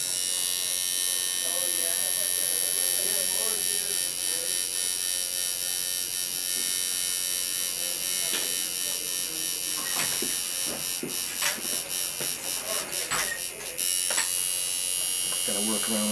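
A tattoo machine packing pure black ink into skin buzzes steadily at close range throughout, with faint sounds of handling underneath.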